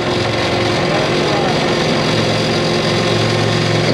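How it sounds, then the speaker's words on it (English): Line pump starting up and running while being primed with bentonite, with an auger nearby, giving a steady, loud mechanical engine hum that holds even throughout without pause. "turn the pump on and forward, increase the volume ever so slightly"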